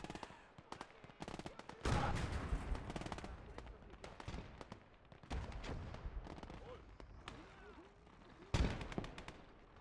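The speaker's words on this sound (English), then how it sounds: "that 50 cal is providing a lot of supporting fire" Bursts of .50 cal machine gun fire rattle through a Gates of Hell PvP battle, rapid clustered volleys mixed with heavier booming shots, some close and loud, others more distant, with talking over the din.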